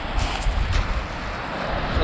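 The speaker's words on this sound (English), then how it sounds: "wind is really starting to pick up now." Wind gusts around a seaside fishing spot as the weather picks up at dusk, a brief, moderately loud rushing noise with muffled buffeting on the microphone.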